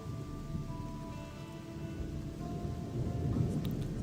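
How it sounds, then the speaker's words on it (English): Steady rain falls in the video game Gothic 2 Gold Remaster, a constant wash of drops and hiss that swells slightly toward the end, with a faint low rumble and no talk. "Ooh, it's so dark and rainy."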